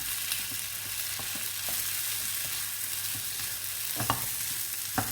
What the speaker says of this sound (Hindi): इन सबको मिक्स कर लेते हैं